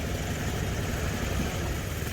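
A boat engine runs steadily as the boat moves along past riverside ghats, a continuous mid-low motor drone with an even, unbroken hum.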